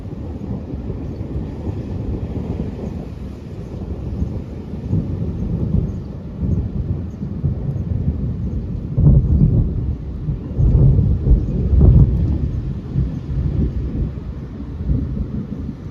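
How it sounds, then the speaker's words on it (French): A small thunderstorm at night, with low thunder rumbling continuously and swelling into heavier rolls toward the end, and wind and rain hissing steadily underneath. "à commencer par ce petit orage nocturne"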